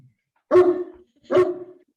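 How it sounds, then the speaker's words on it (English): A dog gives two single close barks about a second apart, loud and clear against silence. "Charming sound of dogs."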